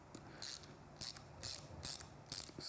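Ratchet wrench tightening the top handlebar clamp bolts on a Triumph Street Twin, five quick bursts of rapid metallic clicking spaced about half a second apart, close and clear with no talking.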